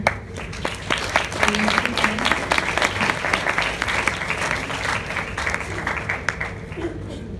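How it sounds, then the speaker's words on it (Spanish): Audience applause at an academic talk on psychometric scale development, a roomful of people clapping steadily with some sharp individual claps near the start, faint voices beneath. "Dámosle un fuerte aplauso para..."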